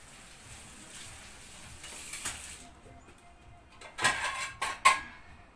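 Soft sizzling and simmering from a pot of rice pilaf on the stove, with a few sharp clinks of a lid or utensil near the end.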